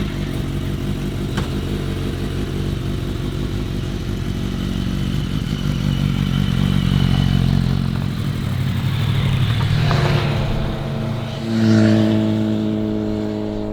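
An MCN 250 motorcycle is ridden on the road, its engine droning loudly and steadily, then swelling and rising in pitch as it accelerates toward the end.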